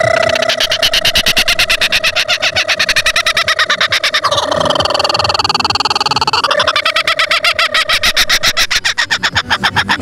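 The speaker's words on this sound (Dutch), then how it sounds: "Ze worden namelijk lachvogels genoemd." A laughing kookaburra calls at a King's Day drive-through event in Wezep, a loud, close, rapid cackling chatter that rises into a raucous peak midway before settling back into rhythmic hooting.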